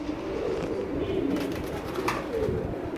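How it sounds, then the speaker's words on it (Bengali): A pair of pigeons in a cage coo nearby in low, throaty, repeated calls that overlap in a soft, continuous rumble. "খাঁচার ভিতরে মাসাল্লাহ অনেক সুন্দর এক জোড়া কবুতর"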